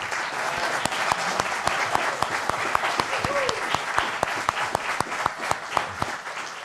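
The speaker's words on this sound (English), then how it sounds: "could you help me to give this panel a round of applause for investing in America?" An audience applauds a panel at an environmental justice summit, a steady sustained wash of clapping with sharp individual claps standing out, fairly close and even in loudness throughout.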